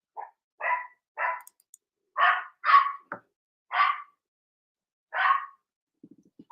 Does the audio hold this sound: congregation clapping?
no